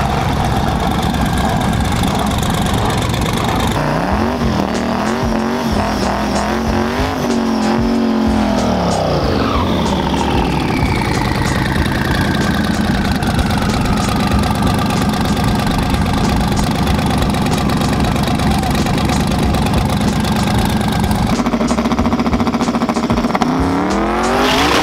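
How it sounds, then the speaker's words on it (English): Drag race car roaring on a test pass with the boost turned down: a loud, sustained engine howl with rising and falling revs and tire noise, continuous for the whole stretch and heard alone. "Test pass, I turned down the boost, so it should be probably a high 8-second pass."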